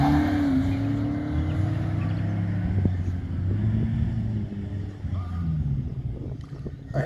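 A modest slalom race car at an Ancenis event, powered by a Clio 1.6-litre 16-valve engine of 105 horsepower, revs and shifts through the course with a steady, loud engine drone and rising, falling pitch.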